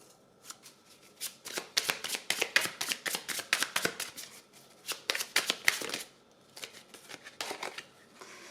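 Tarot cards being shuffled for a reading, a rapid series of crisp riffling bursts in close, quiet bouts with short pauses between them, with no voice.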